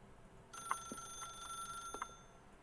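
An old-fashioned telephone rings in The Stanley Parable video game, a bright electronic bell tone sounding in two short bursts, moderately loud and clear with no voices.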